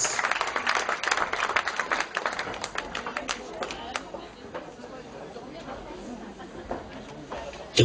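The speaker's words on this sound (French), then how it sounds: "applaudissements" Live concert audience in France clapping loudly, with dense, rapid applause and some chatter that gradually thins and fades toward the end.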